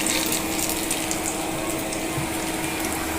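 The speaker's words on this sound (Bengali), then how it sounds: "এই যে গরম তেলে মেরে দিলাম" Lentil fritters dropped into very hot oil sizzle and fry with a steady, dense crackling hiss that stays close and loud throughout.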